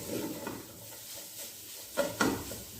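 A spoon stirs chicken hot and sour soup in a pot, giving soft swishing and a few light scrapes and knocks against the pan over a faint background hiss.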